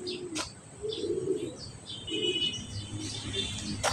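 Racing pigeons coo softly at the loft after a training flight from Talavera, Nueva Ecija, in a few low, quiet phrases with faint chirps and light background noise.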